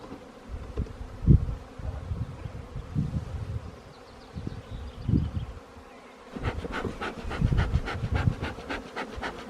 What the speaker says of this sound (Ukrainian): наче бджілки чимало